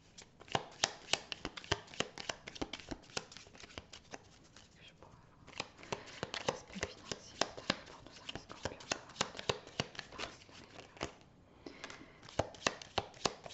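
Tarot cards shuffled and drawn in a general reading: a dense run of crisp card riffles and slaps, close and fairly quiet, with brief pauses between bursts.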